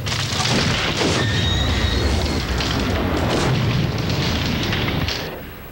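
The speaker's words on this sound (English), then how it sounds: "Sharp metal hits and the sound of railroad cars coupling are added to the ship explosion." A massive ship explosion rumbles on with crashing debris and sharp metallic clanks, including railroad cars coupling, layered through a dense, continuous roar that tapers off at the end.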